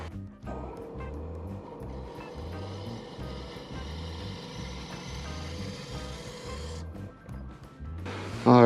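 Wood lathe spinning at 1250 RPM while turning a shallow natural-edge apple bowl, a steady low rhythmic thumping hum with a faint tool scrape above it, ending in a louder burst.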